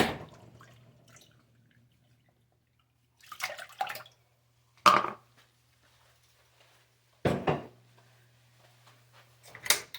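Water poured from a cup into a pot for cooking rice comes in a few short, separate splashes and trickles with quiet gaps and a low hum between them, and nobody speaks.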